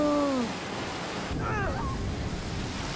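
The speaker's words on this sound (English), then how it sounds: "Waterfall!" Rushing waterfall in a Harry Potter video game, a broad steady roar of falling water with a brief tonal voice-like sound near the start and again midway.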